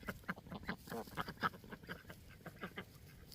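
Ducks quack in a flock that also includes chickens, giving a run of short, rapid calls at a fairly low level through the whole stretch.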